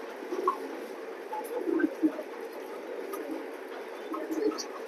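Racing pigeons, a pair of birds kept for sale, coo softly in low, murmuring calls scattered across a quiet background with faint rustling.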